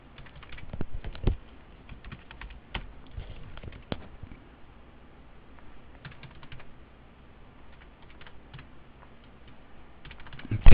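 A computer keyboard is typed on while accounting data is entered, giving rapid, irregular clicking keystrokes in close bursts with short pauses and a louder final tap.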